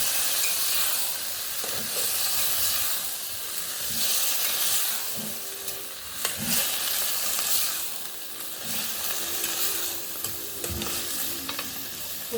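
Peas go into a pot for a Jamaican seafood stewed peas dish and sizzle with a steady hiss, with periodic scraping knocks from stirring, close and fairly loud throughout.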